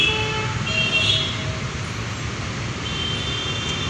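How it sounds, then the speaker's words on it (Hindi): Heavy road traffic in a long jam in Bengaluru, Karnataka: a constant engine rumble with brief horn toots rising over it. No one speaks. "देख सकता है कितना लंबा ट्रैफिक लगा हुआ है।"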